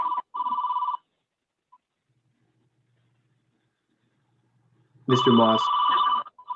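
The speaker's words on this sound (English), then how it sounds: "I can't stop that ringing in the background." A telephone rings in the background of an online board meeting, a loud electronic trill in two bursts separated by a quiet gap, with someone briefly speaking over it.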